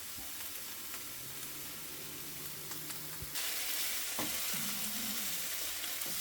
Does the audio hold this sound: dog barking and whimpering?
no